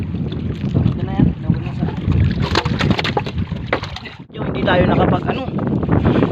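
Strong wind and waves on open sea, recorded from a small fishing boat out catching eels, with loud gusting wind buffeting the microphone and choppy water under someone talking.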